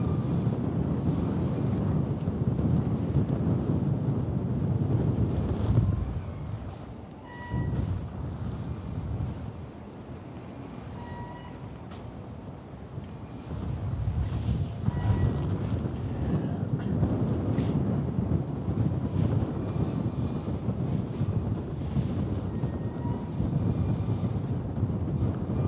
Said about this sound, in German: für alle, die sich diesen warmen Sahara-Wind nicht vorstellen können